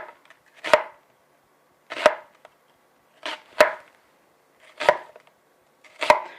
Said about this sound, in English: I'm going to do half yellow onion. So we chop it really well.